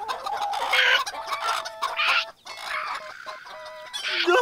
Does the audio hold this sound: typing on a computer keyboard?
no